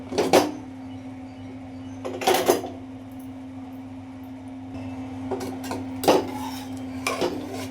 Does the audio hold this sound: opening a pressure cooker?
yes